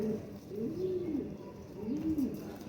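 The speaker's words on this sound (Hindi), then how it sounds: "अब ये कबूतर है 2 साल हो गए इसकी" Flying-breed pigeons of a pure bloodline coo twice in soft, rising-and-falling phrases close by, with a faint background murmur.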